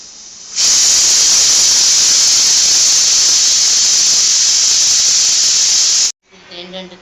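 A pressure cooker holding toor dal with tomato and bottle gourd releases its third whistle: a loud, steady jet of hissing steam lasting several seconds, then cutting off abruptly before a voice speaks.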